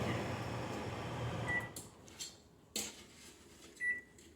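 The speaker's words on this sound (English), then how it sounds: "Just gonna show you it's a really working microwave oven." A working microwave oven hums loudly at first, then quietens, followed by a few short beeps and clicks from its controls and door.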